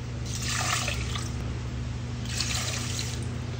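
Glutinous rice being washed by hand in water, two soft swishing, sloshing bursts over a steady low hum, fairly quiet and close.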